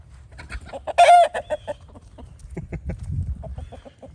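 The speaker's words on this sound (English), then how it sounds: "Millie, you're scaring the chickens off." Chickens cluck and squawk close by, with one loud burst of agitated calls early on followed by steady, rhythmic clucking.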